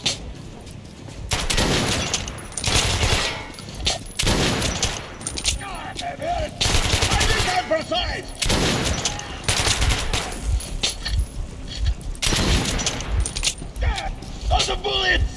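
Near-constant automatic gunfire from Metro Last Light Redux gameplay on Xbox, heavy and dense with metallic clatter, runs throughout the clip, while a player's voice can be heard under it.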